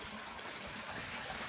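Waterfall stream pouring steadily in a rugged Chitrakoot forest, a continuous broadband rush of falling water, fairly close and even throughout with no voices over it.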